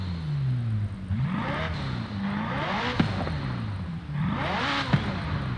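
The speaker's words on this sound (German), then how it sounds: "Ich glaube, man hört schon, dass das V8 ist, aber das ist voll der Rennwagen-Sound." McLaren Senna V8 race car in Forza Horizon 5, engine revving up and down through gear changes with sweeping pitch climbs and drops, loud and close, heard alone.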